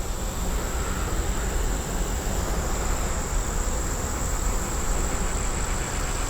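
Honeybees hum in a dense, continuous buzz at an open hive during a brood and varroa mite inspection, close and steady with no voices.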